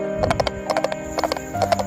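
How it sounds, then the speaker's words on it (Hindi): A horse carrying a king on horseback passes by in a Hindi cartoon moral story, its hooves clip-clopping in quick uneven clusters, loud and close, with no voices over it. "तभी वहाँ से एक राजा अपने घोड़े पर सवार होकर निकलता है।"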